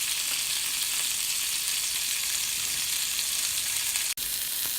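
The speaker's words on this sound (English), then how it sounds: "So now we're browning the other side." Swiss steak browns in a cast iron skillet, a steady bright sizzle of frying meat running continuously at close range with one brief dropout near the end, no talking.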